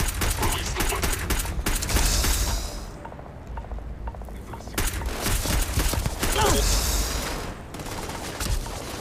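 Weapon fire from the Starfield video game comes as rattling bursts mixed with mechanical clanks, loud and near, with a short quieter lull in the middle and voices underneath.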